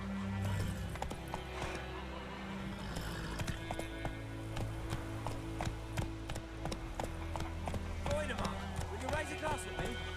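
Roach, Geralt's horse in The Witcher 3, clip-clops with steady hoofbeats close up, while a neigh and a whinny come through over a voice talking throughout.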